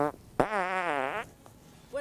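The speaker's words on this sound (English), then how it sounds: "Little fart toy." A small novelty fart toy lets out one long, buzzing, wavering blast lasting nearly a second, close and clear, with brief voice fragments around it.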